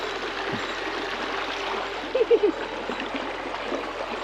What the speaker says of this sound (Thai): เป็นน้ำผ่ากลางหมู่บ้านของบ้านตะนางเขา